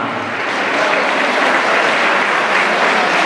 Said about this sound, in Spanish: Fuerte aplauso para Fenidra.